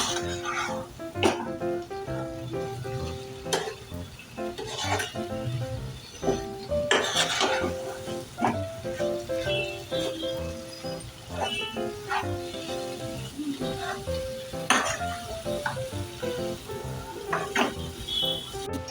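Wet creek shrimp (jawla) are stirred in a pan for an Agri Koli-style sukka, with a spoon scraping and clanking against the metal in irregular strokes over a steady sizzle, close and loud without speech.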